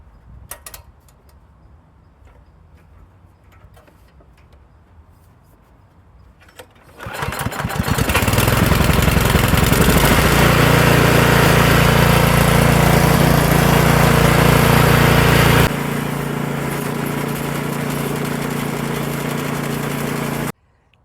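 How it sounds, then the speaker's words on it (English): A repaired snowblower's small engine catches after quiet fiddling, then roars loud and steady close by before dropping to a slightly lower, even running drone until it cuts off. "And I go ahead and fire it up, make sure it all works."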